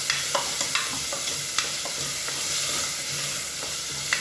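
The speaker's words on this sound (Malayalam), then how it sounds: "നമുക്ക് നല്ലപോലെ ഒന്ന് മിക്സാക്കി കൊടുക്കാം" Dal kichdi is stirred and mixed in a pan, with repeated close spoon scrapes and light clinks over a continuous sizzle.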